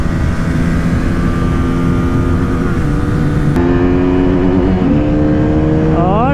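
A Bajaj Pulsar NS200, a KTM Duke 200 and a Yamaha MT15 drag race. Their loud engines drone and climb in pitch through the gears as they accelerate, with a sharp rise at the end.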